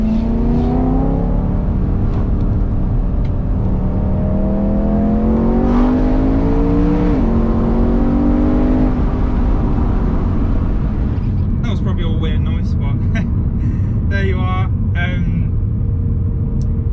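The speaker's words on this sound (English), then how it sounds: "Let's hit a little quick downshift." Frozen Grey BMW E92 M3 engine revving through a quick downshift, heard from inside the cabin with windows slightly open: sustained drone, rising blips around the gear change, then sharp rev spikes near the end, with someone talking over it.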